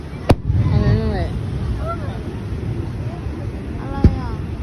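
Fireworks bursting at a Japanese summer hanabi festival, two sharp distant bangs spaced a few seconds apart over steady crowd murmur, with people chatting and whistling launch trails rising between the booms.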